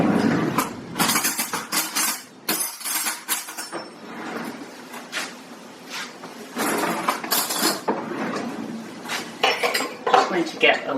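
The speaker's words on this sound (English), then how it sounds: "to get a little bit of bacon grease out to start my pan" Bacon grease scooped into a frying pan, with close metallic scraping of a utensil against a container and clinking of dishes and cutlery in uneven bursts, with some quiet background voice.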